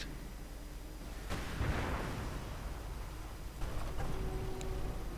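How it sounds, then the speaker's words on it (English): An artillery barrage hitting a Panzer IV tank in a strategy game, a few muffled booms and sharp impacts spaced over several seconds, fairly faint against low rumbling battle noise. "Panzer 4 rolling in, suffering a rather explosive barrage"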